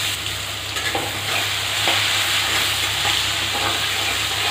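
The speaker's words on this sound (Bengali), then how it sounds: "এখন আমি পেঁয়াজটাকে একটু ভালোভাবে ভাজা করব।" Chopped onions fry in a pan with cinnamon and bay leaves for a mutton curry, giving a steady, close sizzle with a few soft stirring scrapes and no voices.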